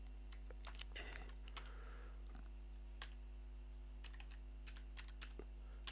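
Keys tapped on a computer keyboard as text is typed into a PowerPoint slide, a sparse, irregular run of light clicks over a steady low electrical hum, with no talking.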